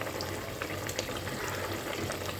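Hilsa fish curry with eggplant simmering in a pan, a steady soft bubbling and frying hiss that runs evenly throughout without any voices.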